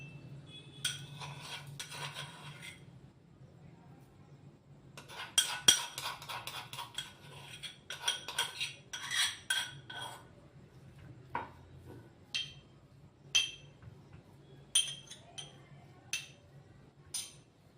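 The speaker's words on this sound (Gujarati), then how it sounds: "તો એક આપણે વાટકીમાં કાઢી લેશું" A spoon clinks against a small bowl while chutney is scooped into it, about a dozen sharp metallic taps and scrapes spread irregularly over a quiet kitchen background, with no talking.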